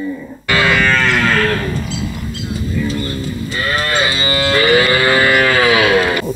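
Cattle moo loudly and close by in a cow shed, with several long, overlapping calls that rise and fall in pitch one after another.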